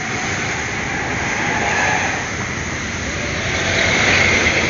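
Steady rumble and hiss of an LRT light rail train at Asrama Haji station, continuous and moderately loud, swelling slightly near the end, with no voices.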